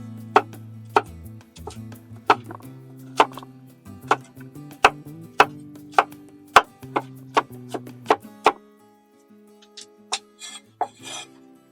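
A cleaver chops garlic cloves on a board in a steady rhythm of about twenty sharp, close knocks, ending with a few lighter scraping taps.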